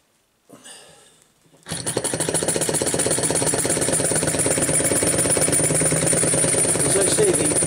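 A small model engine, one of several little pop pop engines with a burner whose flame is hard to keep lit, starts after a brief quiet stretch and then runs steadily with a rapid, buzzing, vibrating clatter, close and loud.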